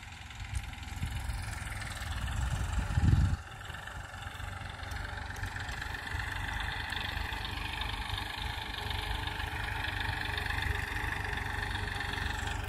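A Massey Ferguson 1035 DI tractor engine idles steadily on a farm, a low continuous rumble with a brief louder thump near the start, running alone without talk.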